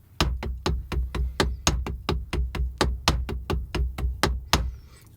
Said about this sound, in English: the most basic way of playing the six-stroke roll and what most people use